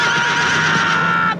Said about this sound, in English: Yeah, it's a horse, I know.